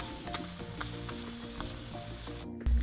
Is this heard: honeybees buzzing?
no